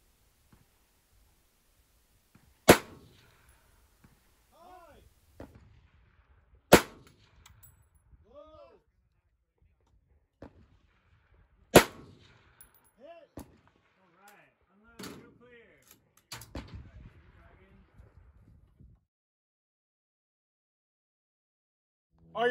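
Rifle rounds striking steel IPSC targets at 375 and 480 yards during a 2-gun match stage: sharp, isolated clangs spaced a few seconds apart, mixed with soft voices talking between impacts.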